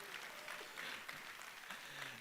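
An audience at a church general session claps in a brief, soft patter of applause heard from a distance, lasting a couple of seconds.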